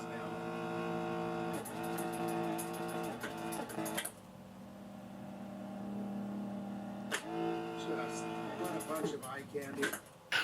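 A 1971 Bally Runner electro-mechanical arcade driving game gives off a steady whirring, humming motor drone with rapid mechanical clicks. It cuts out briefly in the middle, then starts up again with sharper clattering bursts.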